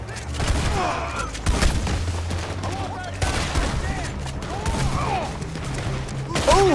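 Rapid gunfire, including shotgun blasts, erupts in a Red Dead Redemption 2 shootout, with repeated close shots and booms in quick succession while someone talks over the action.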